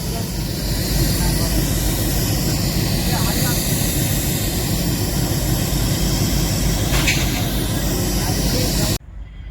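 A loud, steady low rumble of a train engine hauling rails near Rajuri, Beed, runs throughout, with broadband hiss and a crowd murmuring faintly underneath, cutting off abruptly near the end.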